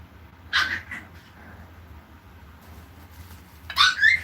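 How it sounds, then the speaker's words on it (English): Puppies waking up and whimpering in a home kitchen, with two short bursts of high yips and whines, one near the start and a louder one at the end, over a quiet low hum. "And now the puppies are waking up, so it may get a little loud."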